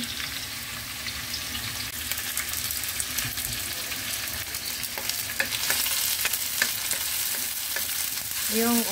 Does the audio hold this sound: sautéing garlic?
yes